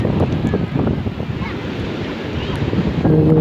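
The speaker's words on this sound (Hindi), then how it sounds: "पानी की लहरें काफ़ी दूर तक आ रही हैं।" Sea waves wash steadily onto the shore at Karachi, a continuous broad surf rush with gusting wind buffeting the microphone; a brief voice surfaces faintly near the end.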